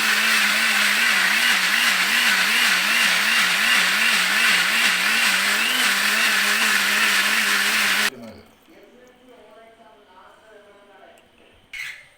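A Pigeon nutri mixer blender making juice, a loud, close, whining motor with a wavering pitch running steadily for about eight seconds before cutting off abruptly, leaving quiet room sound and a faint clatter.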